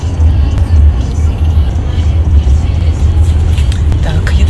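A car on the way to the airport gives a steady low rumble of road and engine noise from inside the cabin, with talking heard over it.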